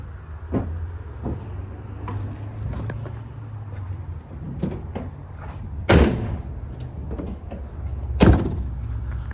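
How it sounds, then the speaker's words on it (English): A door on a utility truck swung shut with two solid thumps near the end, heard close over steady outdoor background noise with light clicks and handling sounds before it. "let's close this door, just so I don't forget about it later"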